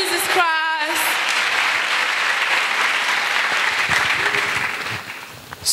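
A church congregation claps for Jesus Christ during a sermon, with loud, dense, sustained applause that fades slightly near the end. A voice is heard briefly at the start.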